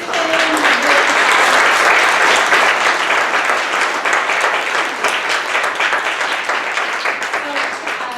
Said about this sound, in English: Can we offer a round of applause again to all of our kids and musicians.